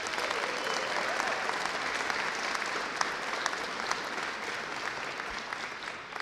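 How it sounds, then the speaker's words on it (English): Sustained applause from a crowd at a bill-signing ceremony, many hands clapping loudly and evenly, dense and continuous from start to finish. "Can we give them a round of applause,"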